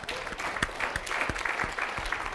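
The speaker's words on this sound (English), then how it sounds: "give Dylan a round of applause" A seminar audience applauds Dylan, a modest roomful of hands clapping steadily at moderate distance, with several loud, sharp claps from someone nearby punctuating the wash.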